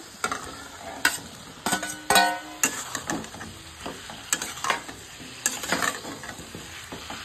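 Fried cauliflower and potato pieces go one by one into a pan of frying spices, bringing sharp, close sizzling bursts and clattering stirs and scrapes that come in an uneven rhythm throughout.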